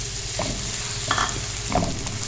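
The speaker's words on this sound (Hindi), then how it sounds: "प्याज हमारा फ्राई हो चुका है" Onion sliced omelette-style softens in two tablespoons of hot oil, sizzling steadily up close while a spoon stirs it, with a couple of brief scraping clinks.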